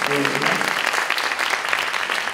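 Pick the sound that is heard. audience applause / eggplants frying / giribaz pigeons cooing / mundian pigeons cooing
audience applause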